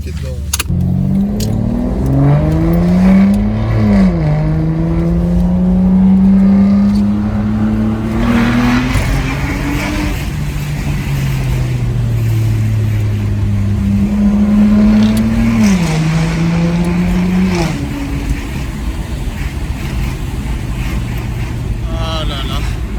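Aston Martin DB9 Mansory engine revving loudly from inside the car, rising and falling in two long swells with a strong low drone throughout, while people talk over it.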